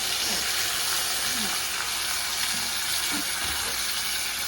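Spice paste loosened with water hits a hot pan with a steady, loud hissing sizzle, a few faint clinks and a voice speaking briefly underneath.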